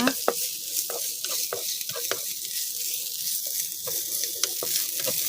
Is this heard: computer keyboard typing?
no